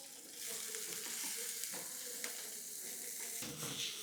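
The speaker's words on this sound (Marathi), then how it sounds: "आता ही जी मेथी आहे ही छान आपण परतून घेऊ." Sprouted fenugreek seeds are stirred in a thick-bottomed kadhai with green chilli and asafoetida, giving a soft, steady sizzle with light scraping stirs, fairly quiet and without voices.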